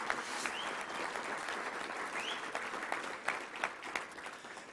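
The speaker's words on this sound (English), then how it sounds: "So let's give them a big round of applause for what they do." Audience at a Little Rock Touchdown Club luncheon applauds volunteers: steady, dense clapping from a crowd across the whole stretch, moderately loud with a few sharper claps standing out near the end.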